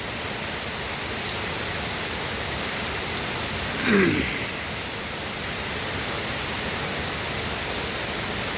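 Steady rainfall on a July day in Bangladesh makes a dense, even hiss that stays unbroken and fairly loud, with a brief soft bump of other noise near the middle.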